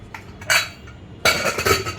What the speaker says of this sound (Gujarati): કુકરનું ઢાંકણું બંધ કરીને